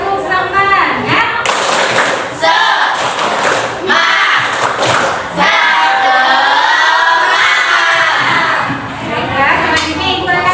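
Schoolchildren in an Indonesian classroom clap a quick rhythmic pattern together, the claps thumping sharply in bursts, with voices chanting along over them.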